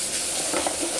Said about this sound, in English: Always constantly stirring because you're doing this in medium to high heat.